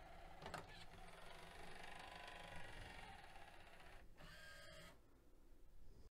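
A Pioneer CLD-2070 laserdisc player ejecting a disc, a faint whirring and grinding mechanism with a few clicks and a brief pause near the end, heard alone.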